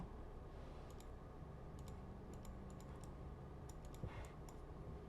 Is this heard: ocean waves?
no